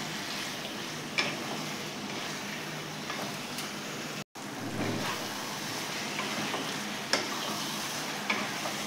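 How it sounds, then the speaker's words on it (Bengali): Chicken sautéing with spices in a covered pot, a dense steady hiss of frying with occasional faint scrapes of stirring, one brief dropout midway, no voices. "দিয়ে ভালো করে এখন চিকেনটাকে আমার কষতে হবে।"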